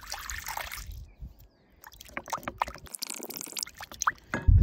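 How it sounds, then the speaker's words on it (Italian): Water poured into a bowl for a bao bun dough, with soft splashing, trickling and dripping in a few bursts amid quiet pauses, fairly close and without speech. "In una ciotola versiamo l'acqua,"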